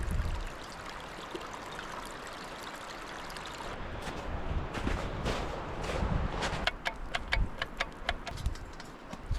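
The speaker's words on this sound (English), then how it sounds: "we're gonna get a little pot and just fill it up." Stream water splashes and trickles steadily into a small pot at a winter bushcraft camp, close and continuous, with soft ticking knocks and a brief footstep-like shuffle near the end.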